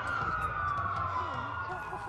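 Police car sirens in the Watch Dogs video game, a steady wailing tone sounding continuously over a low background rumble, with brief muffled game voices.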